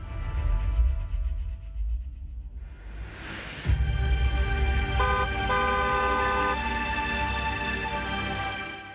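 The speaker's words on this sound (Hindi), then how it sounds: "हॉर्न बजाएं" Car horn honking with sustained blasts over traffic rumble, near and loud, a long continuous toot after a brief whoosh.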